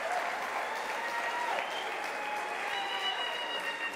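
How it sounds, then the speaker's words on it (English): An audience at a university autumn graduation ceremony applauds the graduates with a steady, soft wash of clapping that carries evenly from start to end, heard at some distance in a large hall. "Can we give you a round of applause, and can you give it to yourself as well?"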